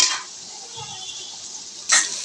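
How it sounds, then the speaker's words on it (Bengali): Chicken pieces frying in oil in a pan after a prawn paste, heard as a soft continuous sizzle bracketed by two brief, bright scraping stirs at the start and near the end. "এখন চিকেন মুরগিটা একটু এটার সাথে ভেজে নেব তেলে পাঁচ মিনিটের জন্য"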